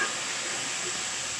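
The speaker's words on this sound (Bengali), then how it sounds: "এবার আমি একটু তেলের সঙ্গে খুব ভালো করে এটাকে ভাজা ভাজা করে নেব, যাতে কাঁচা গন্ধটা চলে যায়" Spice paste sizzles in hot oil for a Bengali pangas fish curry with brinjal and potato, a steady close hiss of frying that holds evenly from start to finish with no talking.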